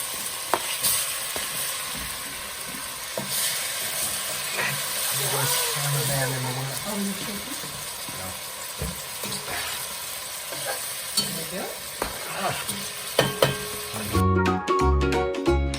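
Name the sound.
cut-up meat frying in browning butter in a pan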